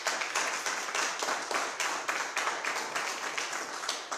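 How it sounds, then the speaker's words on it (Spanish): Congregation clapping together in a church service, a loud rhythmic burst of hand claps repeating at a steady beat throughout. "Dale un aplauso al Señor."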